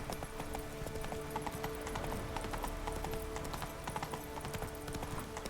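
Roach, a horse in the video game The Witcher 3, clip-clops along at a steady walking rhythm, hoofbeats close and clear over a continuous outdoor ambience.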